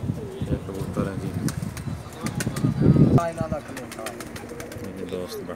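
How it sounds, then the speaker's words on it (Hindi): Pigeons on a rooftop loft in Jeddah, Saudi Arabia, coo in low repeated phrases, with a brief burst of wing flapping and faint voices in the background. "ये कबूतर हैं जी"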